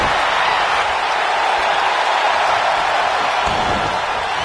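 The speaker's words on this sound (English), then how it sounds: "Listen to this crowd." Arena crowd in WWE 2K19 roaring during a women's Royal Rumble match, a dense, continuous wash of cheering at constant loudness with no commentary audible.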